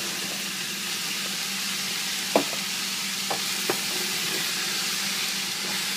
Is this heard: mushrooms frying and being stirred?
yes